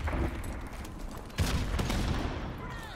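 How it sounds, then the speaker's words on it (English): Gunfire in Call of Duty Modern Warfare Remastered on PS4, where a sniper rifle is in use, sounds as a dense, continuous clatter of shots with a sharper crack partway through, loud and unbroken over game noise. "He keeps freaking shooting me with the sniper rifle."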